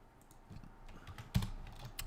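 Quick, irregular tapping on a computer keyboard while writing eBay listings, with one sharper keystroke partway through; fairly faint and close, with no talking.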